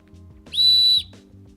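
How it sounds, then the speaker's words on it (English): A single sharp, shrill whistle blast from a skier's safety whistle sounds for about half a second, loud and steady, between quieter low rumbling. "The other cool thing about the product is that it has a whistle."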